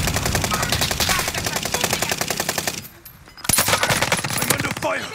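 Rapid automatic gunfire rattles in a SWAT-themed video game, sustained bursts of fire that pause briefly and then resume just as loudly.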